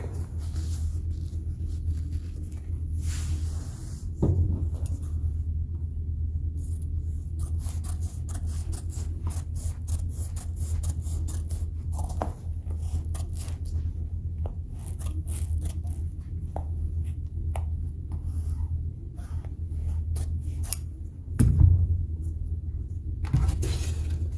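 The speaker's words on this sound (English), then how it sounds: "I'm going to trim off the foam in the areas here where I don't want to wrap the foam around the plastic" Foam padding trimmed with a blade or scissors while preparing a leather wrap for a plastic car dashboard part, giving faint, irregular snips and scrapes over a steady low hum, with a couple of louder knocks.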